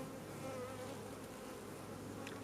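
Honeybees buzz steadily around an open hive frame of capped brood, a close, dense droning hum that holds even and continuous.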